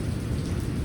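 Heavy rain pouring down in a dense, steady roar, close by, with a low rumbling undertone and no voices.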